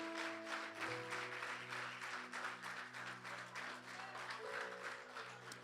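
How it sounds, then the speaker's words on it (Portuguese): A church congregation applauds with a dense, continuous wash of clapping, while sustained organ or keyboard chords ring underneath. "Agora o aplauso é para Jesus"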